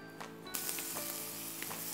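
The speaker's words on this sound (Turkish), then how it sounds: "Ben bunları kızartmaya başlıyorum. Tavaya çok az yağ koydum." Leek meatballs fry in a pan with very little oil, giving a steady close sizzle with a few soft pops and scrapes.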